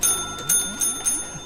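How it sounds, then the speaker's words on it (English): A kitten's paw taps a small bell, producing several quick bright rings in an uneven rhythm, close by and with no talking. "Okay, that was a bell."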